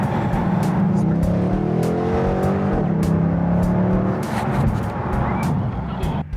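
A 1968 Dodge Charger R/T, an original-owner car in turbine bronze metallic, runs with a loud, steady engine rumble that swells briefly as if revving, with voices talking over it.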